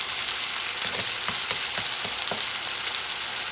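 Pork chops frying in a cast iron pan give off a loud, continuous close sizzle. A series of soft taps and scrapes runs through the middle.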